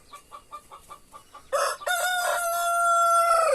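Several soft clucks from chickens on a farm, followed by a loud, close rooster crow that holds a long drawn-out final note.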